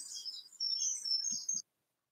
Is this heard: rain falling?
no